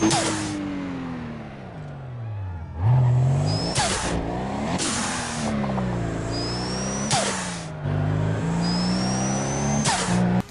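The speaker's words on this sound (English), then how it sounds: "Even the turbo sounds are amazing." Car engine revving with turbo whine in the racing game Need for Speed ProStreet, repeated rising revs and gear changes with high whistles, loud and continuous.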